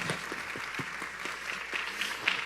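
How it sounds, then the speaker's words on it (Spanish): An audience applauds Jason at the close of a panel discussion, a steady broadband wash of clapping with a few louder individual claps standing out, continuous and fairly close. "¿Qué tal si le damos un aplauso a Jason también?"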